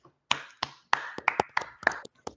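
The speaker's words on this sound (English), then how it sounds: "Can we give a round of applause?" A small group claps in scattered, uneven bursts, about a dozen sharp hand claps spread over a couple of seconds, fairly faint and close, with no talking over it.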